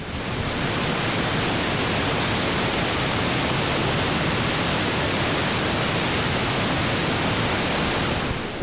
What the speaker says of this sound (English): We are standing on the balcony looking at the Ohio Pile Falls, the waterfall.